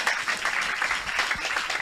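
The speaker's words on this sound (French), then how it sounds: "Tu peux acclamer pour la parole de Dieu." An audience at a French-speaking church service claps continuously through the whole span, dense steady applause from many hands, moderately loud and without any clear voices over it.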